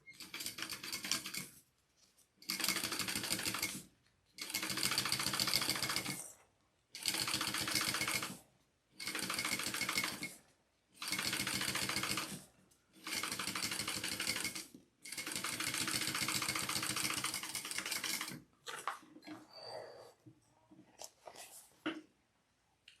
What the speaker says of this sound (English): we are going to top stitch along the bottom piece